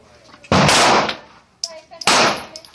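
Two sharp, loud pistol shots from a Glock fired outdoors, about a second and a half apart, each with a short ringing tail and faint sounds in between.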